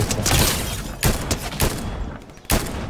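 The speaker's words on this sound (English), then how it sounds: "I got a pistol that pings every time I shoot somebody" Pistol gunfire in the Fortnite video game comes in a few sharp, loud bursts about a second apart over dense in-game noise, with no talking.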